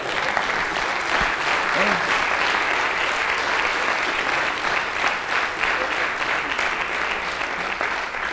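A church audience claps for a long stretch, thick, even, loud applause from many people, with scattered voices and cheers blended in.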